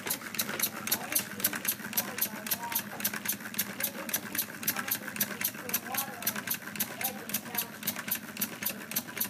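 A small single-cylinder Lego engine with a fly-ball governor runs on compressed air fed from a plastic soda-bottle tank, giving a fast, steady ticking chuff that repeats evenly throughout at close range.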